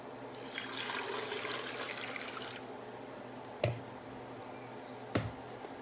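A splashy pour of garlic and water into a pan lasts a couple of seconds, followed by two sharp knocks or clanks of a utensil in a quiet kitchen.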